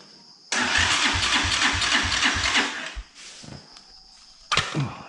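Keeway Superlight 200 motorcycle with the choke on cranks with a rapid chugging starter rhythm for about two and a half seconds, then falls quiet, followed by a brief second crank attempt, loud and close.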